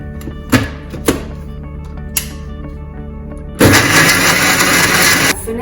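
A kitchen mixer grinder whirs loudly for a couple of seconds, blending spice paste with water for Kolkata puchkas, after a quieter stretch with a few clicks.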